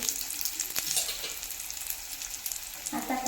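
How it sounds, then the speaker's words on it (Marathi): Stuffed bitter gourd fries on a low flame with a steady, soft crackling sizzle, and a few light clatters as the pieces are turned over in the pan. "आता पुन्हा मी पलटी करून घेत आहे पहा आता इथे हे मी सेम दोन मिनटं भाजून घेणार आहे"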